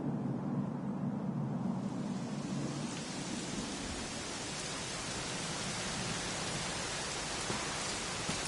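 Steady rain falls in a dense, even hiss that swells slightly after the first few seconds and holds continuously with no voices.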